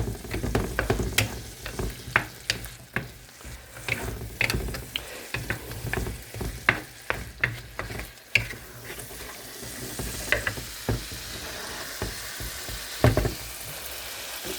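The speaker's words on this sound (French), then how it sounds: "On va laisser mijoter un peu" A seafood cassolette with scampi simmers and sizzles in a pan, with frequent clicks and scrapes of stirring over a steady frying hiss, close and busy throughout.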